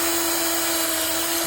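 An electric drill runs continuously at a steady high-pitched whine, loud and close, with no pauses or speech during the short burst.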